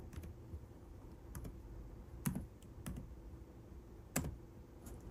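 Light typing on a computer keyboard, scattered soft key clicks with a few sharper taps, quiet and close against a steady background hum, no voices.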